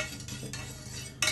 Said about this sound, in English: I'm just swirling the water so it creates a little bit of a spin